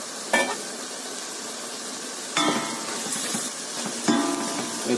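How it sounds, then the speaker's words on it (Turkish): Lamb kavurma with mushrooms sizzles in a pot as a spoon scrapes through it three times, each stir a sharp clatter rising over the constant frying hiss, close up with no talking. "tenceremin kapağını açtıktan sonra tekrardan karıştırıyorum"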